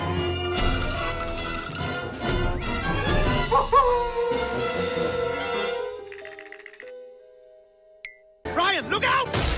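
A cartoon dog barks and yips amid music and voices in a Disney animated show, with a short whimper-like tone trailing into quiet before sound resumes.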